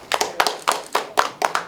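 A few people at an academic conference clap for a professor in a short run of distinct, roughly even hand claps, close and fairly quiet, as in a small room.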